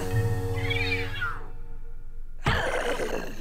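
A cartoonish cat meows in Luigi's Mansion 3, a drawn-out rising-and-falling cry heard up close, then silence and a burst of louder game sound.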